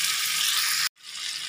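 A ground paste of cumin, coriander and chili fries in a pan, giving a loud, steady hiss that cuts out for a moment and then resumes at a slightly lower level.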